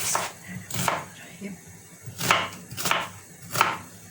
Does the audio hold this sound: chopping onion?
yes